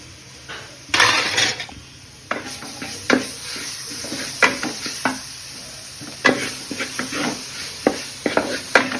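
Tomato cooking with spice powders in a pan for a Kerala-style diet biryani, the oily sizzle repeatedly punctuated by sharp scrapes and clanks of a spoon stirring against the metal.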